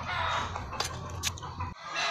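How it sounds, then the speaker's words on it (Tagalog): Chickens cluck and crow nearby, with a few sharp bursts rising over a constant background hum before it briefly cuts out near the end; nobody speaks. "Pasensya na, guys, sa mangingay ng mga manok."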